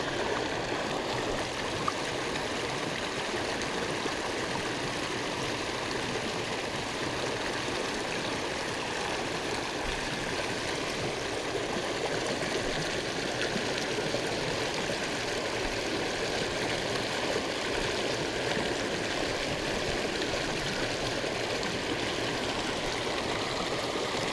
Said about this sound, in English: We got a fast moving water right here